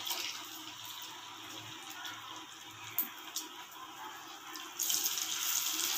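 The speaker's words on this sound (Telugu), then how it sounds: "నేను వేసేసుకుంటున్నాను చేప ముక్కలు." Fish pieces dropped into heated oil give a steady, faint high sizzle and crackle with a few sharp pops, and the frying grows louder and brighter near the end; no voices are heard.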